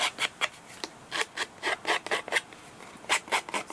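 Scissor blades scrape along the edges of paper peel-off stickers to distress them, a quick series of short, dry rasping strokes in an irregular rhythm, close and fairly quiet with no talk.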